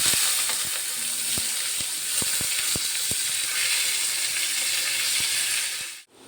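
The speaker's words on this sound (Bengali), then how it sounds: "সবজিটা দেখুন এরকম ভাজা হয়ে গিয়েছে" Chopped vegetables frying in a pan for semolina upma, a loud continuous sizzle with a string of sharp spatula taps and scrapes against the pan, then a brief cutoff.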